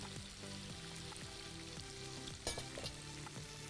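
Onions frying in a pan, a close, steady sizzle with faint stirring and scraping, and one brief louder clatter midway, with no talking.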